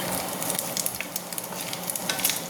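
Pork sautéing in a pan as its fat renders, a steady close sizzle with crackling pops and faint stirring, no voices.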